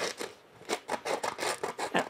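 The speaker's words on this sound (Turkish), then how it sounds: "Şimdi makasla keseceğiz." Scissors cutting a long, thin strip about 20 cm long, a rapid series of close, dry rasping snips in steady rhythm after a brief pause.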